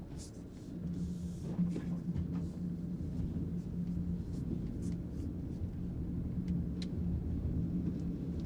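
A Land Rover Defender 90 Trophy drives through deep snow in automatic mode, its engine a faint low rumble from inside the cabin with soft scattered crunches and knocks.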